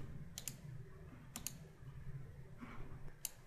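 A few quiet clicks of keyboard keys, in pairs and singles, sound close against a low background hum.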